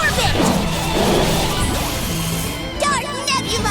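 A heavy smashing impact from the Deadly Orbit special attack in the role-playing game Eternal Sonata, a loud crashing blow that rings and fades over a few seconds, with character voices shouting around it.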